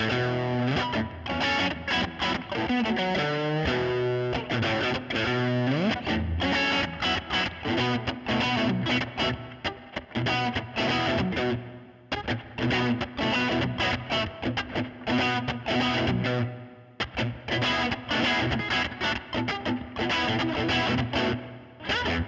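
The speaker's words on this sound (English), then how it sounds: "that blues drive right there is basically called the Emperor Drive amp, going into a Tweed Super 2x10" Electric guitar played through a Hotone Ampero Mini on its Emperor Drive blues overdrive amp model into a Tweed Super 2x10 cabinet, a juicy overdriven bluesy tone with steady strummed chords and riffs, loud and continuous with no talking.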